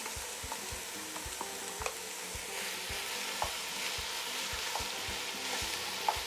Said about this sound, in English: we're going to go ahead and start adding our green chili